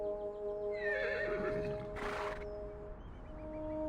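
A horse whinnies in a video game, with hooves clopping beneath it, all over a steady backing of sustained musical tones.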